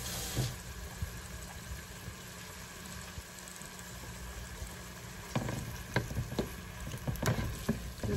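Eggs being scrambled directly in a frying pan sizzle steadily and quietly, with soft scraping and stirring taps growing busier toward the end, with no talk.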